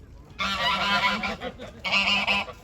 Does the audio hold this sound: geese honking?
yes